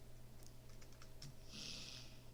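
Quiet clicking of a computer keyboard as code is typed, a short run of light keystrokes in an indoor room with no talking.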